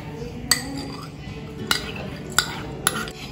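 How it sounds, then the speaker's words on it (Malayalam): Desiccated coconut being stirred with condensed milk in a mixing bowl: a spoon scrapes softly and clinks sharply against the bowl four times at uneven intervals, close and clear. "ഇനി നമുക്ക് ഇതൊന്ന് ഇളക്കിയെടുക്കാം."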